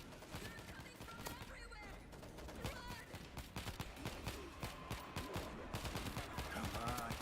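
Rapid gunfire in a shooter video game, dense bursts of automatic shots crackling continuously over a busy mix of game sound effects, loud and sustained throughout.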